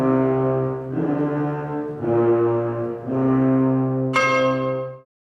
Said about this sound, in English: That was an excerpt from the 1976 performance by the French National Orchestra, conducted by Leonard Bernstein, performing Symphonie Fantastique